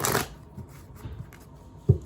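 A deck of tarot cards being shuffled by hand, with a quick riffle burst at the start, a few soft rustles after it and a sharp tap near the end, close up with no talking.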